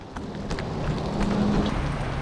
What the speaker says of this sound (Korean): 비 엄청 많이 온다